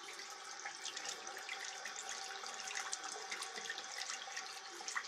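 Dirty, dark water running from a household tap in Râmnicu Sărat, Buzău, a steady close hiss and splash of flowing water throughout, with no voices.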